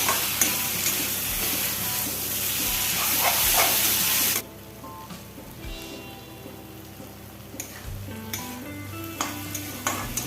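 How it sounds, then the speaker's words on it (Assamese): Jackfruit seeds and bottle gourd greens sizzle loudly in a pan for several seconds, then the hiss drops off and quieter frying continues with occasional scrapes and knocks of stirring. "এতিয়া মই এনেকৈ অকণমান সময় ভাজিম"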